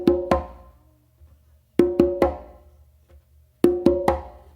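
A makuta pattern is played on congas in three repeating groups. Each group has two ringing open tones and then a sharp close slap, with short gaps in between. The drums sound close and clear, with no voices.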